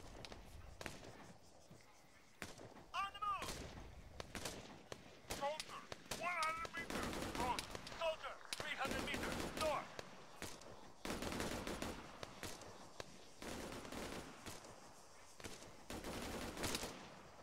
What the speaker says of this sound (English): Who are you guys shooting at?